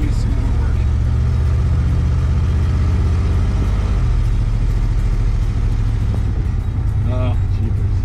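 The engine of a 1970 Plymouth Fury III with a Carter AVS carburetor needing adjustment runs with a loud, constant low rumble, and people talk over it.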